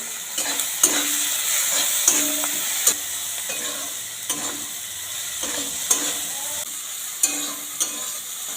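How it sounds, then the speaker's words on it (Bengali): Soya chunks frying in a pan for a vegetable bread pocket filling, with a steady sizzle and repeated scraping strokes of a spatula stirring at a roughly one-second rhythm, close and clear without talk. "অল্প ভাজব এরপর দিয়ে দেবো সয়াবিন আগে থেকে যে টুকরো করে রেখেছিলাম সেইগুলো দিয়ে দিলাম"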